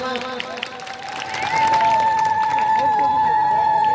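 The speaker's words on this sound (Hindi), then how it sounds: "श्रीमती सुनीता साहू जोरदार करताली जमा" Audience applause for kirtan singer Sunita Sahu at Rangali, clapping swelling in partway through and holding steady under a sustained musical tone, with a voice heard early on.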